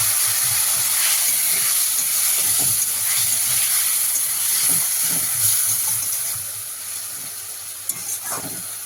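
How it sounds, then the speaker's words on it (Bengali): Spice paste with tomato and a splash of water cooks in a pan for fish, producing a continuous broad steamy hiss and sizzle that eases somewhat toward the end, with a faint clink near the close. "টমেটোটাও আমি এর মধ্যে অ্যাড করে দেবো সামান্য জল দিয়ে একটু করতে থাকবো মশলাটা"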